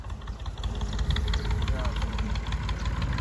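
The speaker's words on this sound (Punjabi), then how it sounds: "ਲੋ ਜੀ ਭਾਈ ਆ ਗਿਆ ਟਰੈਕਟਰ ਲੈ ਕੇ।" A tractor's diesel engine idles with a low, steady chugging rumble close by, continuous throughout with no voices.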